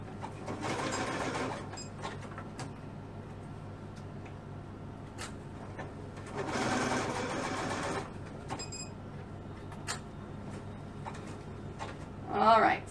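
A sewing machine zigzag-stitches the inseam of girls' leggings in two bursts of rapid mechanical whirring, with quieter gaps between, close up and running without talk over it.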